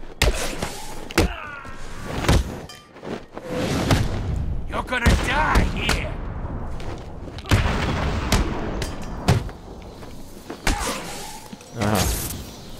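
Explosive gel detonating in the Batman Arkham City video game, heard as several sharp booming thuds scattered across the clip, mixed with combat impacts, game effects and someone talking over the action.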